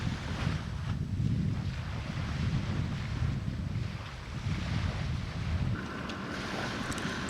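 Strong wind gusts and buffets the microphone near the Mayflower II sailing ship off Provincetown, with water lapping underneath, a steady roaring blow that dips briefly midway.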